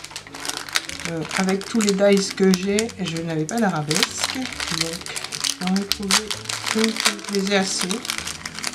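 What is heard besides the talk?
paper crinkling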